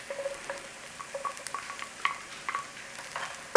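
Garlic fries in a pan with oil, a faint, crackling sizzle with scattered sharp pops and light stirring, close by and without talk.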